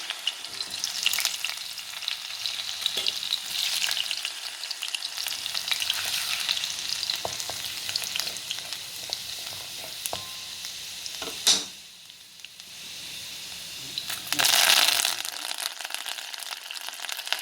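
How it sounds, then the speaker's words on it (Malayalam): Urad dal frying in hot oil with spluttering mustard seeds, a steady close sizzle with crackling pops and stirring throughout, one sharp louder burst partway and another surge near the end. "കടുക് പൊട്ടി കഴിയുമ്പോൾ അതിലേക്ക് ഉഴുന്നിട്ട് വെക്കാം"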